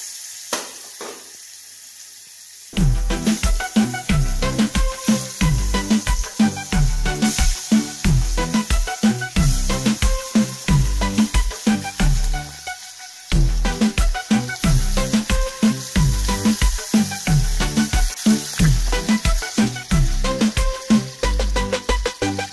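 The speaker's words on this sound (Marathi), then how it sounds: "पनीर फ्राय करून घ्यायचे आहेत." Paneer frying in a pan, a loud, busy sizzle with dense crackling pops that starts abruptly, breaks off briefly midway, then resumes steadily to the end.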